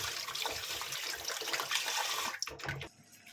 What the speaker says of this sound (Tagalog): hugasan natin sa running water.